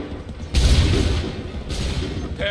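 A musket volley rings out in Assassin's Creed III, a dense burst of overlapping loud booms that swells suddenly and then rumbles on with a second wave of reports.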